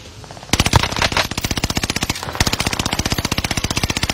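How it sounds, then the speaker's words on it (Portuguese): Rapid automatic gunfire in the video game Warzone: loud, close bursts of evenly spaced shots that rattle on for several seconds with a brief pause in the middle. "É, quem é que tá atirando?"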